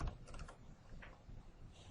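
Keys tapped on a computer keyboard to enter a search term in site-plan software, a soft, quick patter of strokes close by over a faint background hum, with no talking.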